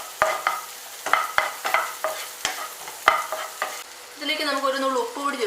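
Ingredients for egg noodles stir-fried in a pan: loud, repeated spatula scrapes and knocks in an uneven rhythm over steady sizzling, giving way to brighter clinking and frying toward the end.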